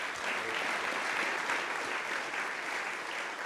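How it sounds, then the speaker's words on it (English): Sustained applause from an audience at an awards ceremony, a dense, steady wash of many hands clapping that holds at an even level throughout, with no voices standing out. "Big round of applause for that."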